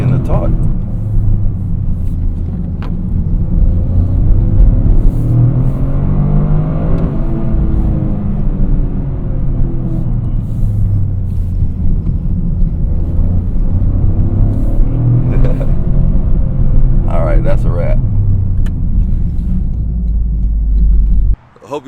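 A Toyota GR Corolla accelerates on the road, its engine and tire rumble swelling and easing over a long stretch, heard from inside the cabin with a person talking over it.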